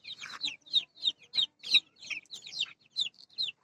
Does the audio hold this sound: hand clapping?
no